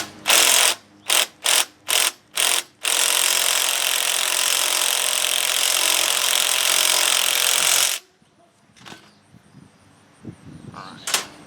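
A ratchet tightens bolts while a cart is assembled: five quick bursts of close, loud clicking, then a long continuous ratcheting run, followed by quieter handling clatter and taps.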